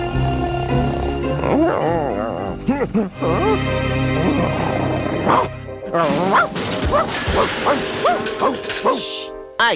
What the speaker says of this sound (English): I gotta shut this dog up.